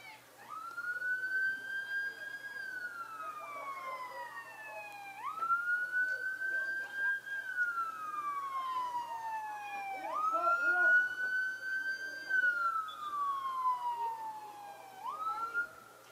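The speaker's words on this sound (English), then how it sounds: "Ambulance sirens in the background, not coming here." Distant ambulance sirens wail in slow, repeating rising-and-falling sweeps, faint across a women's college soccer championship match, with commentators' voices heard over them.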